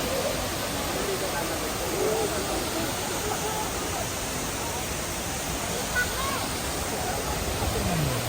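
Daranak Falls roars with rushing water: a loud, unbroken hiss and rumble that fills the whole clip without letting up.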